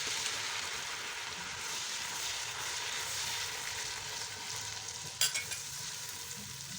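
Tomato paste hits a pan of frying urad dal, Pakistani-style daal mash, with steady close sizzling and stirring, plus a brief sharp clatter near the end.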